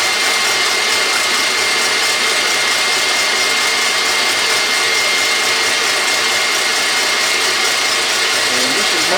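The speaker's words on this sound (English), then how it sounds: "I'm going to bring up the speed of this KitchenAid." A KitchenAid stand mixer runs at high speed whipping a chocolate torte mixture, a loud, steady motor whine and whir holding without pause.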